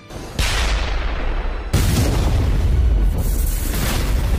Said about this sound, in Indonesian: lalu ledakan super besar terjadi.